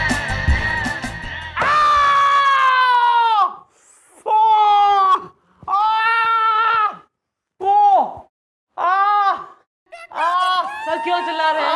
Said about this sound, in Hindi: सर क्यों चिल्ला रहे हैं?